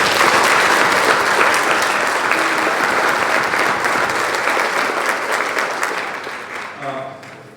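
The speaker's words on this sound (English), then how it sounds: "Let's give them a round of applause." A crowd at a high school spring sports awards ceremony applauds athletes with dense, continuous clapping that stays loud and gradually tapers off, with a voice starting at the very end.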